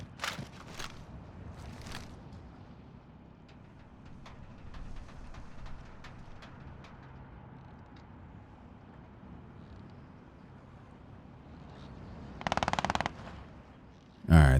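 Scattered bursts of gunfire in Call of Duty: Warzone, mostly distant and faint, with a louder burst near the end over a steady low rumble.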